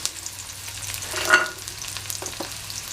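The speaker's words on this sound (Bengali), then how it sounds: "দিয়ে দিচ্ছি পেঁয়াজ কুচিগুলো।" Chopped onions frying in a pan with a steady hiss, swelling briefly into a louder sizzle midway before settling back to a lower crackle.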